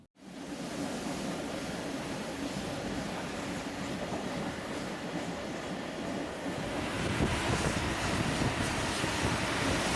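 A Melbourne suburban train runs along the Frankston line with a steady, loud rumble of wheels and rushing air, the roar swelling louder and brighter near the end.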